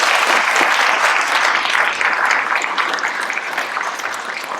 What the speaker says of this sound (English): How about another round of applause for our sheriff candidate?